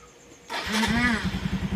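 A Suzuki Raider motorcycle engine starts up just after its throttle body was cleaned. A brief crank lasts about half a second, then the engine catches into a close, steady idle with a rapid rhythmic pulse.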